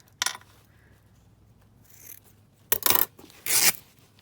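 Paper torn by hand along an edge in a few short, rough rips, separated by quiet pauses, close and fairly soft.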